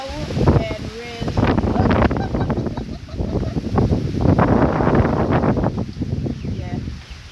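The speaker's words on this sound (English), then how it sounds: "We're getting strong wind." Strong wind gusts buffet the microphone outdoors, a loud, continuous rumbling roar that surges and eases throughout, with a person talking over it.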